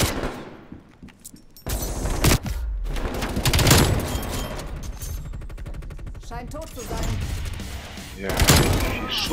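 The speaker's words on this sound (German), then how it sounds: "Er schießt und schießt und schießt." Rapid bursts of automatic gunfire and single shots from the video game Call of Duty: Black Ops Cold War, loud and close, sometimes in continuous volleys with thuds between them, while someone talks over the action.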